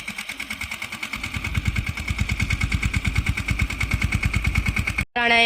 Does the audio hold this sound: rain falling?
no